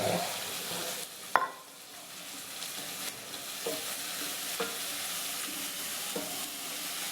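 Fenugreek greens sauté in a pan for a tamarind puli kuzhambu, giving a steady close sizzle and soft stirring scrapes, with a sharp clank of the spoon early on and a few lighter taps later.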